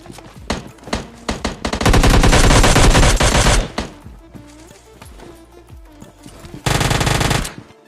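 Rapid gunfire from a Mini 14 rifle in the PUBG Mobile Lite video game, with single shots at first, then two loud sustained bursts of automatic fire, plus scattered in-game effects between them.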